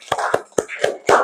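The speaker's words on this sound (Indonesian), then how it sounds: "Tepuk tangan dulu yang meriah untuk kelompok ekosistem sawah" Rhythmic clapping from a classroom group applauding the rice field ecosystem team after its diorama presentation, about five sharp, evenly spaced bursts of hands in just over a second, close and fairly loud.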